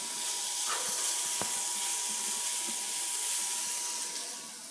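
Capsicum tipped into a hot pan of vegetables for a cheese paneer pulao, releasing a broad, steady hiss of sizzling steam that stays loud and even before easing off near the end.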